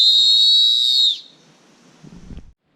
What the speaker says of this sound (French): Je mettais un coup de sifflet.